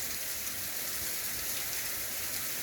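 Hail falls in a steady, dense hiss of countless small impacts that holds unbroken and even throughout, with no voices.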